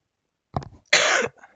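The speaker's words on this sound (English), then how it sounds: "Sorry, I had to cough." A single close cough: a short throaty catch followed by one sharp, harsh burst, then quiet.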